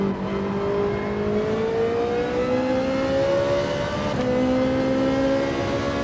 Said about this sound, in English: Need to rev this out a little bit more than the last shift.